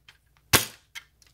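A 6mm airsoft SPAS 12 stunt police shotgun fires a single sharp crack, close and loud, fading quickly, with faint handling clicks before and after.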